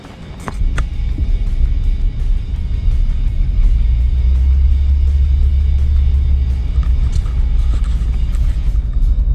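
A car cruises on a Southern California freeway in traffic, its heavy low road and engine rumble steady and close throughout, with occasional faint rattles and no talking.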